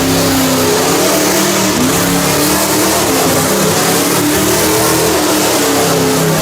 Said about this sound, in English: I don't like how loud the car is.